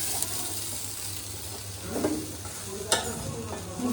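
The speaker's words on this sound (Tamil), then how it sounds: "அடுப்பை நல்லா சிம் பண்ணி வச்சுட்டு நம்ம ஃபுல்லாக வேக வச்சுக்கணும் வாழைக்காய்" Raw banana pieces cook quietly on a stove over a soft, steady sizzle. A few light scrapes and knocks from stirring break through the hiss.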